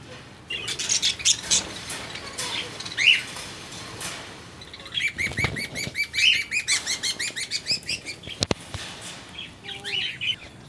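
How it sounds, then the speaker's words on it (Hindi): Cockatiels, including exhibition and cremino birds, chirp and tweet busily in a large flight cage. Lively overlapping calls run throughout, with some wing flutter and bursts of rapid twittering. "खुशी की बर्ड्स की इंतहा नहीं है, इनको इतनी बड़ी जगह मिली है उड़ने की।"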